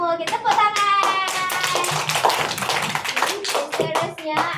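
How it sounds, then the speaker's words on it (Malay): Young children in a classroom lesson clap their hands together in quick, uneven bursts, with bright children's voices chattering and calling out over the clapping. "Kita tepuk tangan."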